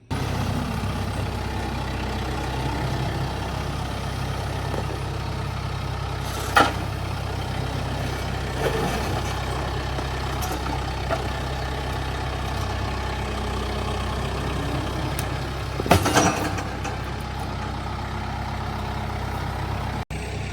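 A heavy tractor engine idles steadily and close at a sawmill, a low continuous rumble with a few brief clanks and knocks.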